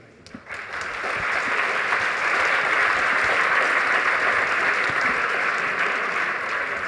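A conference audience gives sustained applause for the speakers: a dense, even wash of many hands clapping that swells in quickly and holds steady, with no talk over it.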